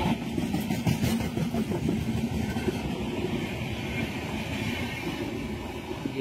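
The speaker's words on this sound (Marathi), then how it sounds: "मित्रांनो, ट्रेन एकदम सुपर फास्ट आहे." A superfast passenger train roars past close by, a dense steady rumble with rhythmic wheel clatter that holds loud throughout.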